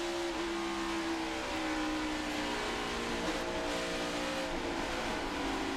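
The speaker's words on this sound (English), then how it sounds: "You can hear just as Mike Wallace picked the throttle back up" Mike Wallace's NASCAR Nationwide Series race car at Charlotte's Dollar General 300 roars steadily as he picks the throttle back up, a loud sustained engine drone with shifting pitch under broadcast noise.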